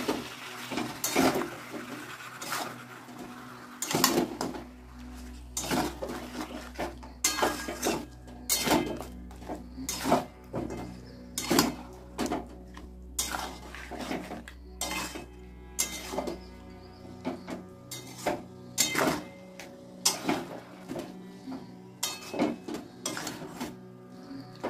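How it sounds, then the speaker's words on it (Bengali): Chicken sautéed with turmeric and spices in a pan, stirred with a utensil: sharp metallic scrapes and clanks in an irregular rhythm, close and fairly loud, with a low hum underneath for much of the time. "দিয়ে এবার কষাবো বন্ধুরা মশলার সঙ্গে"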